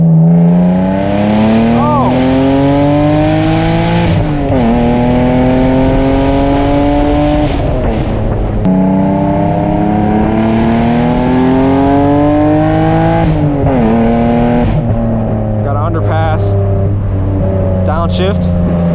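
Straight-piped BMW Z3M carrying an M3 engine, its loud exhaust roaring close up through repeated full-throttle pulls and gear shifts, pitch climbing and dropping with each change, with people talking over it.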